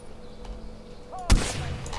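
A single sharp, loud gunshot in the video game Far Cry 4 bursts out near the middle, its blast trailing off into a brief rumbling echo over a faint ambient background.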